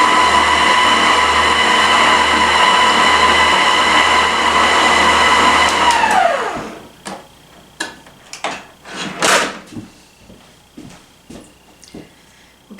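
An electric mixer beats pumpkin pie filling at a faster speed, giving a loud, steady whirring drone for about six seconds. The motor then winds down and stops, and a few scattered knocks and clatters follow.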